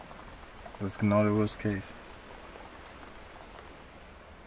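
Steady rain falls outside as a constant soft hiss throughout, with a voice speaking briefly over it near the start.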